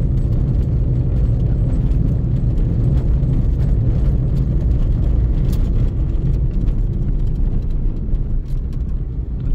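A small, popular economy car's engine straining uphill in second gear, a loud, low, steady drone from inside the cabin with no talk.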